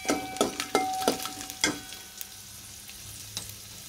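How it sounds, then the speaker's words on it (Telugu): Garlic and tempering spices frying in oil in a pan, a soft steady sizzle broken by clinks and scrapes of stirring in the first half, close and fairly quiet. "వేగుతున్నాయి కదా వెల్లుల్లిపాయలు, కొంచెం వేగిన తర్వాత ఇవి వేసుకోవాలన్నమాట"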